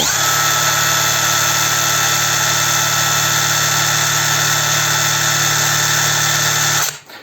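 A SHIDOKU SHG1 1200 Nm cordless impact wrench works on a truck wheel, a loud, steady hammering whir that runs without pause for about seven seconds, then cuts off abruptly.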